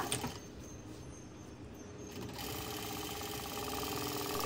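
A sewing machine stitches a boat neck Punjabi dress. After a quieter opening it settles into a steady, close mechanical whir and rattle with no speech.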